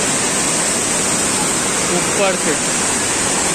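Tirathgarh waterfall near Jagdalpur, Chhattisgarh, gives a loud, constant rushing roar of falling water that fills the scene without pause, with a voice faintly speaking underneath.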